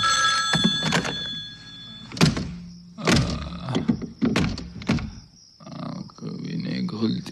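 A telephone rings in a Hindi film comedy scene, bright repeated tones at the start giving way to thuds and clatter while people talk loudly over it.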